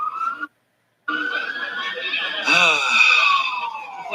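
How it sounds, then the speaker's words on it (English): Wailing sirens rise and fall in the distance during a Hong Kong street protest, layered over one another, briefly cut off near the start before continuing steadily. "you can hear some sirens in the background"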